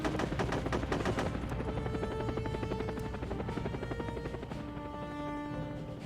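A helicopter-mounted machine gun fires in the video game SOCOM as a dense, loud rattling burst over a steady rotor drone, then the shooting gives way to a sustained engine hum and tonal whine.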